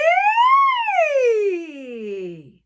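A singer's voice imitates a siren as a vocal exercise, a smooth clear tone that sweeps up in pitch and then glides slowly down, sustained alone and close with no other sound.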